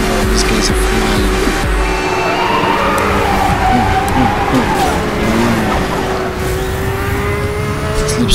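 Race cars in Need for Speed Hot Pursuit roaring loudly at speed on a coastal road, engine drone and tire squeal sustained throughout as a crash unfolds, with a voice talking faintly underneath.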